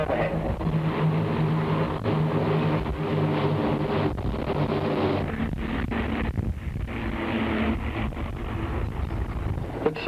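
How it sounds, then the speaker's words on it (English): A formation of CT4 air trainer aircraft passing overhead at an air show, a steady loud broadband roar of propeller engines with wind buffeting across the whole stretch, no talk. "there's a mighty formation, everyone of the CD4 air trainer,"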